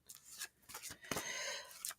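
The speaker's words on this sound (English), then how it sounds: "Y'all know I'm doing some shuffling." A deck of cards is shuffled by hand before a reading, giving several quick riffling and rubbing bursts, close and fairly soft, with a longer sustained riffle in the middle.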